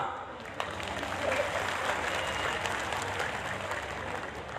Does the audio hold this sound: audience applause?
yes